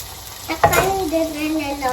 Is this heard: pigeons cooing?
no